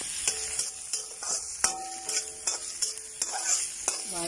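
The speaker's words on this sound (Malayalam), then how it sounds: "ഉള്ളി ഒന്ന് വഴന്ന് വരണം." Onions sauté in a pan for a soybean and green peas kurma, with a steady sizzle and repeated sharp spoon scrapes and stirring clicks up close.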